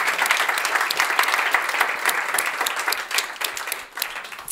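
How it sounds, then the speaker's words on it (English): A conference audience at a science summit applauds steadily, dense clapping from a large crowd holding at an even, loud level throughout with no talk over it. "We give them a warm applause."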